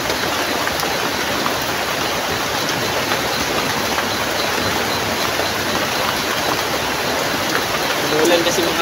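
Heavy rain pours down steadily outdoors, a dense, continuous roar of water with a hiss on top, while a voice speaks briefly toward the end.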